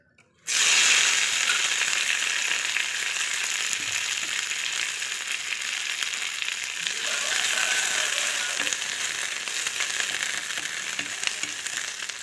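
Fresh mint leaves sauté in a hot pan for a Tamil-style pudina chutney, giving a steady, fairly loud sizzle and crackle with faint stirring scrapes, no voices.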